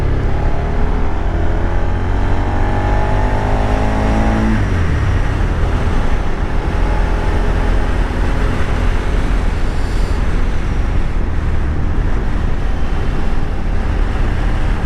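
A manual car's engine drones steadily while driving, with a loud, continuous low rumble; the pitch shifts and drops partway through as the gears change, then the engine keeps running under heavy road noise.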